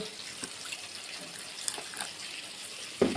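Water trickles from a tap into a bowl holding turmeric, chilli powder and salt, a soft steady pour with small splashes and a brief clatter at the end.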